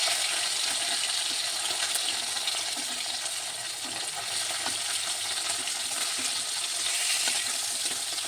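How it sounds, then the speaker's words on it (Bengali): Parshe fish fries in a pan, a continuous soft hiss and crackle of hot oil held at an even, fairly quiet level throughout, with no voices. "মাছগুলো ভাজা হচ্ছে"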